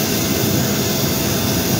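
A jet airliner's engines roar on an airport ramp, a steady broadband rush with heavy low rumble holding loud and unbroken throughout.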